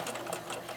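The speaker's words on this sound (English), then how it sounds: "It helps the fabric to go smoothly through your sewing machine." A sewing machine fitted with a walking foot stitches through a quilt, a steady, fast mechanical whir that runs unbroken through the short moment.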